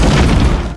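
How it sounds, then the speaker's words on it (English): A remote bomb explodes in a fantasy video game battle, a single loud, dense, close-up boom that fills the brief moment and then fades. "The explosion attracted the attention of Layla, the Dark Elf leader"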